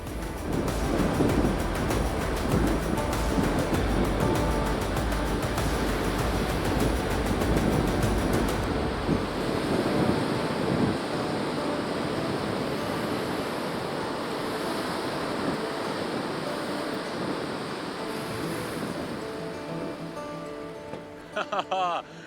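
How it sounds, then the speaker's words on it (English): The Warren River flows strongly across a tidal crossing with a steady, loud, broad rush of water, buffeted by wind noise, while someone talks over it. "There's a good flow on the Warren River there"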